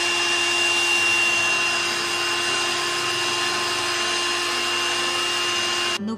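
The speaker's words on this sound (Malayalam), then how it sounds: "ഈ ബീറ്റർ വെച്ചിട്ട് കണ്ടൻസ്ഡ് മിൽക്ക് ഒഴിച്ചിട്ട് അതും ഒന്ന് ബീറ്റ് ചെയ്ത് എടുക്കണ്ട്" An electric hand beater whirs through condensed milk for pista ice cream, a steady high motor whine with tonal hum, loud and close, cutting off abruptly near the end.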